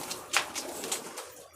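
Pigeons kept by a pigeon fancier in Ras Al Khaimah, UAE, give soft, low cooing calls, a few gentle throaty coos close by over faint background noise.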